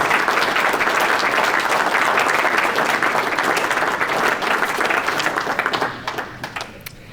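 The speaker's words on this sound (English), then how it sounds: "give our nominees one more round of applause" A large audience at a sports commission MVP awards night applauds the nominees, dense, loud clapping that holds steady and then tapers into scattered individual claps at the end.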